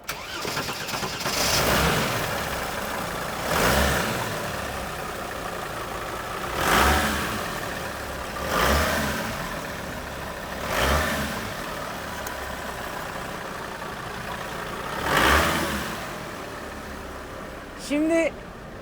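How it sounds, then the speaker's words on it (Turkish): A classic Mercedes 312D diesel van engine idles with a rough rumble, revved in short bursts every couple of seconds, a few strong surges rising over the running drone. "motor sesinden inanılmaz enerji duyduğumuz 312D'de yaptık"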